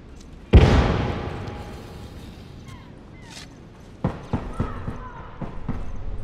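A thrown grenade explodes in The Last of Us Remastered with one loud, sudden blast that rumbles away over a few seconds. Several sharper knocks and impacts follow near the end.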